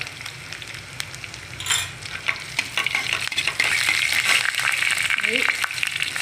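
Curry leaves, green chillies and cumin hitting hot oil for a raw mango chutney, a sharp crackling sizzle that swells and keeps spitting with stirring clinks, close by, while someone talks over it.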